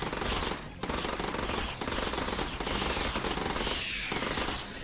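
Sustained automatic fire from the player's weapon in the video game Dropship Down, a dense, loud rattling stream of rapid shots with only a brief pause, no voices over it.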